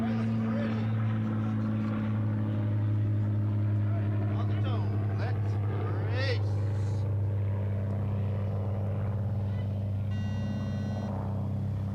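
Several racing quadcopter drones fly through gates, their steady high-pitched propeller whine holding throughout at close range while a commentator talks over it.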